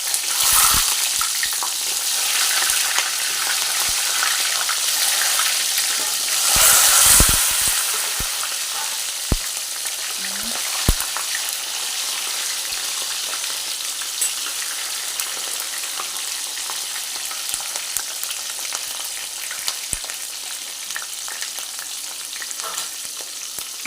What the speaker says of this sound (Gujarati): આપણે ડુંગળીને મીડિયમ ટુ સ્લો ફ્લેમ ઉપર એકદમ ધીરે ધીરે ચડવા દેવાની છે, બ્રાઉન કલરની થાય ત્યાં સુધી